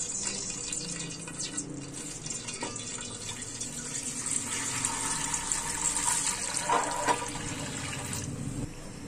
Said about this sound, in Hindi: इसमें हम दो ग्लास पानी डालेंगे अब